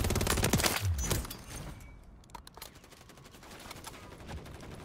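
Rapid bursts of automatic fire from a WSP Swarm gun in Modern Warfare 3, a dense clattering stream of shots that drops off midway, then sparser sharp pops and distant cracks.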